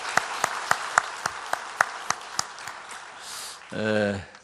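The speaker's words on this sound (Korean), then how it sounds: "한 번 더 하나님께 영광의 박수 올려드리겠습니다." Applause from a Korean church congregation during a Sunday service, starting with a few evenly spaced sharp claps that thin out into a softer wash, followed by someone speaking.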